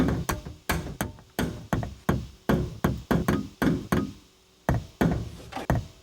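A run of separate tom-like drum impacts sampled from a Tesla car, each a punchy low thud with a short decay, played one after another with brief gaps.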